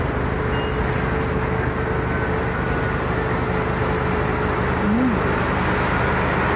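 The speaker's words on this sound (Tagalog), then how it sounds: "Grabe naman dami ng truck na yan eh." Many construction trucks for a windmill project rumble past on a road in Laguna, a loud, continuous stream of heavy traffic with engine drone and a brief brake hiss near the end.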